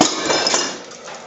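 Crockery smashes in a restaurant kitchen, a sharp breaking clatter of ceramic pieces that rings out briefly and loudly before fading, with no talk over it.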